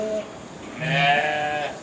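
Free-roaming lambs on a Turkish sheep farm let out a short bleat, then a longer, louder wavering bleat nearby.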